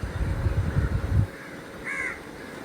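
Crows caw outdoors, a couple of harsh, fairly near calls following a stretch of low rumbling, with no one speaking.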